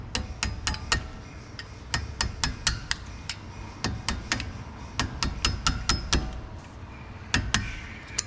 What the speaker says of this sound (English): you need a hammer and a pocket screwdriver, and literally just smack it and they'll start sliding.